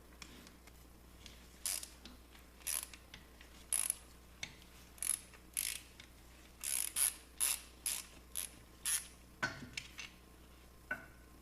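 A ratchet works a 16 millimeter nut off during transmission, turbo and clutch removal, giving bursts of quick clicking pawl strokes in an irregular rhythm, close up with a faint steady background hum.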